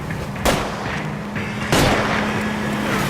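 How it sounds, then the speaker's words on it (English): Gunshots fired at a fleeing car's tires during a chase in the video game L.A. Noire: two loud, sharp reports about a second apart over a steady engine drone. "I'll try to shoot out his tires."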